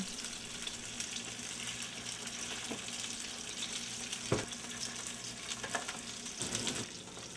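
Steady sizzling and crackling of fish frying in oil in a pan, a continuous hiss with occasional soft clinks.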